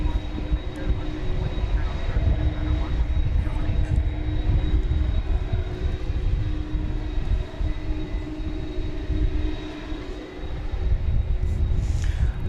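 An MD-11 trijet airliner taxis at Dallas/Fort Worth (DFW) Airport with a steady, loud engine rumble and whine that holds throughout, with a voice talking over it.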